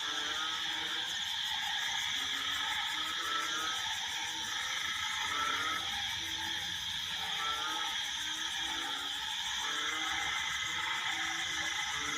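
Frogs and insects croaking over a reservoir in the evening after rain: a dense, loud, continuous chorus of pulsing croaks and buzzing trills that fills the whole stretch without let-up.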